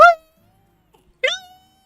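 Two drawn-out, wailing meows from a cat in the video game Story of Seasons: Pioneers of Olive Town, one at the start and another a second later, clear and close with silence between them.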